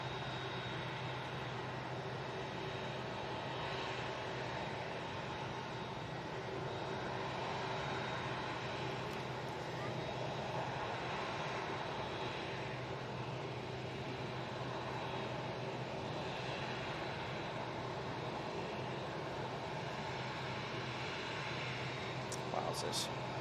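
An airliner at Manchester Airport gives off a steady, far-off engine roar that holds evenly throughout, with wind-like rumble beneath it.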